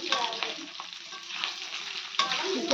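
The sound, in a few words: oil frying in a pan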